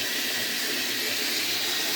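Water runs steadily and forcefully from a tap for laundry, a continuous close hiss and splash with no pauses.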